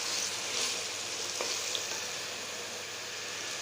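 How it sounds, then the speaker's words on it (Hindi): Spinach and masala fry in desi ghee over high heat for aloo palak, a dense, even crackling sizzle held steady throughout, with one faint stir or tap in the middle; no voices. "तेज़ आंच में ज़रा भून लेंगे तो ज़रा जल्दी हो जाएगा"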